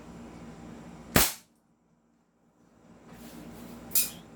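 A Beretta M92 airsoft pistol fires through a chronograph, giving two sharp, close cracks about three seconds apart, each followed by a brief hiss and then quiet, with no talking.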